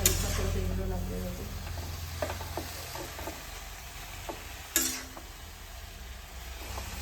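Chickpea leaf greens being stir-fried in a pan, a soft sizzle under repeated scraping and stirring strokes, with one sharper clatter near the end.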